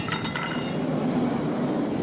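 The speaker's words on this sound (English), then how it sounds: "They'll be heated in a furnace, then hammered into place." Hammer striking a red-hot steel band being fitted around a log, a few sharp metallic clinks near the start that ring briefly and then give way to a quiet background hum.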